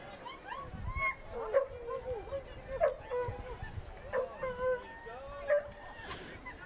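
Basset hounds bark and yip repeatedly at a horse race track during a basset hound racing championship, fairly close, with whimpering between barks and a commentator talking over them.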